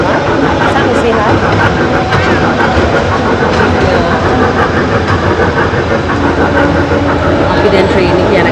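An indoor mall train ride in Dubai rolls along with a constant, loud rumbling drone that holds steady throughout, while voices talk over the noise.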